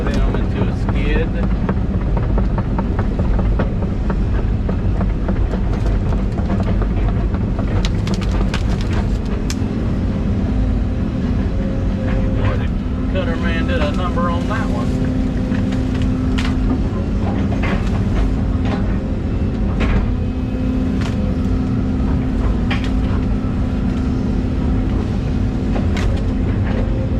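A skidder dragging pulpwood logs through the woods: a steady, loud engine drone with intermittent creaks, clanks and scraping, buffeted by wind noise on the microphone, for nearly half a minute without pause.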